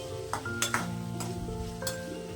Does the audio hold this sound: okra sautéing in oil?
yes